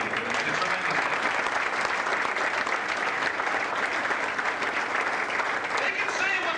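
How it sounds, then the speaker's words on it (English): Audience applause at a 1996 Hall of Fame induction, a sustained crowd clapping in a thick, even wash from start to finish, with some voices mixed in under the clapping. "I think you owe yourselves a round of applause."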